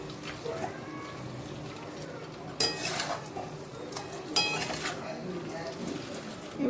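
Katla fish head stirred through a pan of frying ingredients, with a steady low sizzle and two sharper scraping clatters of utensil against pan, close by.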